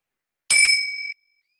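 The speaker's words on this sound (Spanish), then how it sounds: "va a sonar una campana" A single struck mindfulness bell rings out clearly in the quiet of a guided meditation session, its bright metallic tone sustaining briefly before stopping.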